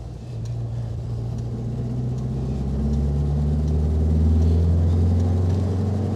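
A Renault Dauphine 1093 on the road, its small rear engine droning steadily and rising gently in pitch as the car gathers speed, loud and close from inside the cabin.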